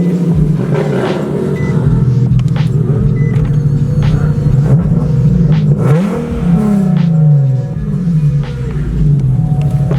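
A modified Nissan 370Z revs repeatedly at a car meet, the engine swelling and falling in several loud, close pulls over a continuous idle rumble.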